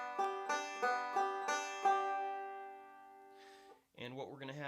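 A five-string banjo plays a Scruggs-style backward roll, six crisp plucked notes ringing in an even pattern, then sustaining and fading before a brief shuffle and a more muffled strum near the end.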